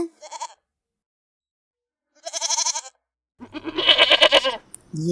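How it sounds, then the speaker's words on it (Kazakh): A goat bleats three times with pauses between, the last call longest and loudest, close and clear with no talking. "Ешкі."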